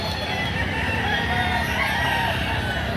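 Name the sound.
rooster for sale at a chicken market in Lipa, Batangas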